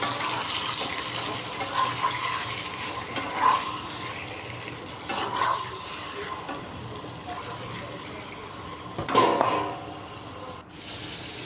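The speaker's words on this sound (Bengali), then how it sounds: "মুরগির মাংস মশলা মাখিয়ে এখন ভেজে নিচ্ছি" Chicken pieces coated in spices fry in a pan, giving a steady close sizzle broken by occasional scraping stirs, with no one talking.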